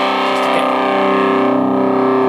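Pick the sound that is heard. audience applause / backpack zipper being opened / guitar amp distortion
guitar amp distortion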